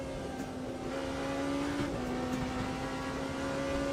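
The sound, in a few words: race car engines in Le Mans Ultimate racing video game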